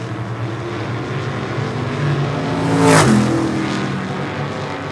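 Super modified race cars on the last lap of a short-track oval race, a loud roaring engine drone from the pack with one car sweeping past close by in a rising and falling pass.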